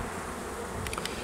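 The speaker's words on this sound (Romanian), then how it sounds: "albina zboară destul de frumos" Honey bees flying around the entrance of a strong hive in spring, a steady insect hum with several brief buzzing passes close to the microphone near the end.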